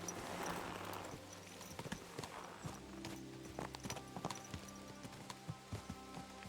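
Horse hooves clip-clop at a steady riding pace in Kingdom Come: Deliverance 2, close and fairly loud over a low ambient hum, with sharper hoof strikes picking up in the second half.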